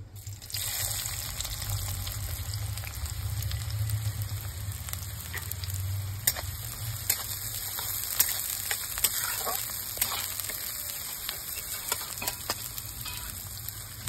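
Chopped onions frying in oil in a pan for a Bengali-style kundri dish, giving a steady, close hiss and sizzle with scattered pops and crackles throughout, heard alone.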